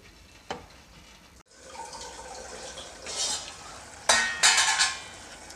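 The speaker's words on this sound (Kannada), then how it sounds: "ಇದನ್ನು ಒಂದು ಎರಡು ನಿಮಿಷ ಕುದಿಸ್ಕೊಳ್ತೀನಿ" Onion and tomato fry in a pan for okra palya while a spoon stirs and scrapes, giving a few sharp clinks and a louder burst of scraping near the end over a low sizzle.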